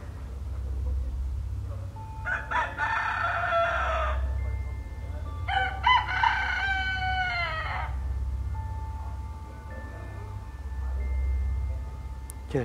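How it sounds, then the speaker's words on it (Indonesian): Two loud rooster crows in close succession, each a long wavering call, over a constant low hum with no talking. "suara ayamnya asli."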